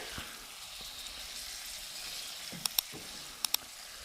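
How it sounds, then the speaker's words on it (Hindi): Turmeric and chaat masala frying in oil in a pan over a medium flame, a soft steady sizzle with a few sharp little pops and light stirring clicks. "इसको डाल के अच्छे से हम भून लेंगे ताकि जो हल्दी का कच्चापन है वो निकल जाए।"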